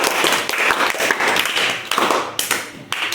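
Young children in a classroom clap together in a quick, loud burst of uneven hand claps, close by, with a faint voice in the background.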